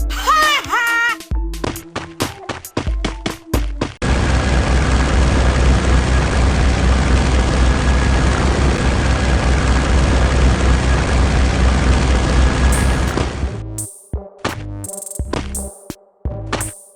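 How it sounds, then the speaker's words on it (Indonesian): An animated Free Fire airplane's engine drones loud and steady as it readies for takeoff, a sustained propeller roar lasting over ten seconds between brief bursts of other sounds at start and end. "Ayo buruan, udah mau terbang nih pesawat"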